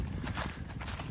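Horse hooves clip-clop along a trail at Tippecanoe River State Park, a quick run of close, muffled footfalls over about a second with no voices.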